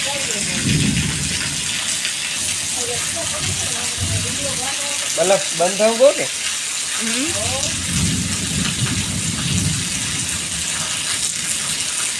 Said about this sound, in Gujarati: વીજળી ચમકે છે અને વરસાદ પણ સારો હતો